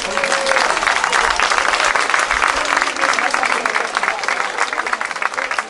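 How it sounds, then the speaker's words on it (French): Loud, dense applause from an audience at an evening amateur singing contest in Ambert, greeting a singer as he is introduced, sustained throughout with crowd noise underneath. "Roland Chevaler, on l'applaudit s'il vous plaît"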